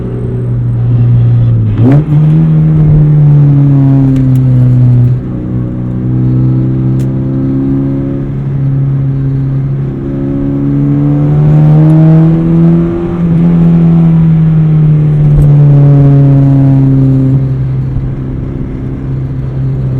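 1995 Porsche 968 engine running through a modified exhaust with no mufflers, a close, steady droning note whose revs rise and fall several times as it drives, with no talking.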